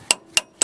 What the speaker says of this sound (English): Sometimes if you hit the bolt, it breaks off some of the rust.